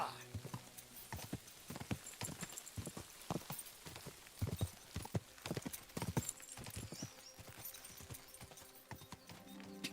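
Horse hooves clip-clop steadily along a road in Kingdom Come: Deliverance II, a brisk continuous rhythm of close, sharp impacts with busy ambient sound beneath.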